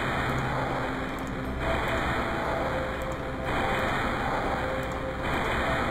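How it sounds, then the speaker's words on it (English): Steady, broadband roar of rocket engines firing in Kerbal Space Program, a continuous loud rushing noise with slight swells and no talking. "let's turn on all my engines"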